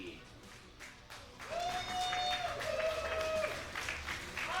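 Crowd applause at the KLASK World Championship 2019 final, a modest burst of clapping that swells and holds for a few seconds at moderate distance, with a voice and a whistle-like tone over it.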